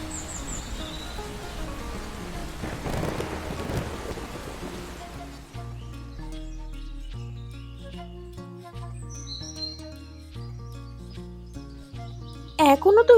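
Cartoon rain and thunder: a rushing downpour with a rumbling thunder swell early on, then the storm gives way to a plucked musical score, bird chirps and a sudden bright sound effect at the end.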